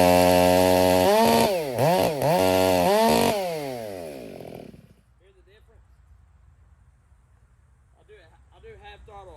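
A Krafterized 562XP Mark II chainsaw bucks oak for firewood, a loud, steady revving drone with rising and falling pitch sweeps for about five seconds, then cuts off abruptly, leaving faint background sounds.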